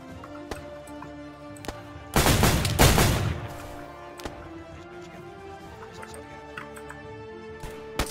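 Gunfire in the survival game DayZ: a loud, close burst of rapid shots around the two-second mark, with a few faint isolated cracks before and after over a quiet background.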